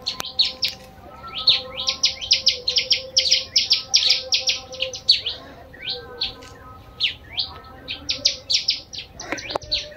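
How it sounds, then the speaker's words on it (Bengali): Birds near a canal-side road in the countryside chirp in quick, bright bursts, with many short tweets repeating close together over a faint steady hum. "গাইস, পাখির আওয়াজ শোনো।"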